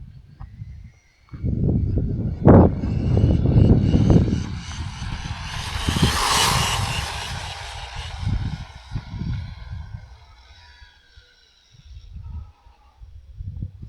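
A high-speed RC car with dual 3.5T electric motors roars past, a loud rising and falling whine with rumbling bursts that sweeps through and fades, then returns faintly.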